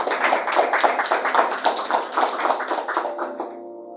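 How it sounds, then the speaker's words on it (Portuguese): A church congregation claps for Jesus during a sermon: steady rhythmic handclaps from many people, fairly loud and close, continuing for several seconds and then stopping abruptly, with no talking over them. "Palmas para Jesus, irmãos."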